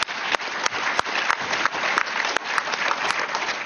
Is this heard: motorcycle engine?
no